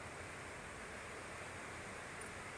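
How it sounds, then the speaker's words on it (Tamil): Manalar Falls, a natural waterfall, gives a soft, even rush of falling water, a steady hiss-like roar heard at some distance with no voices over it. "இயற்கையாக விழும் இந்த அருவியின் இரைச்சல் சத்தம் நமக்கு"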